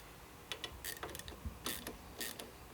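Mechanical clicks and ratcheting from bolts being snugged down on 12-inch mini monkey bar handlebars on a 2024 Harley-Davidson Road Glide, a handful of sharp close taps and short bursts spread across a quiet background.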